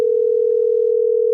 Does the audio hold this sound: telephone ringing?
yes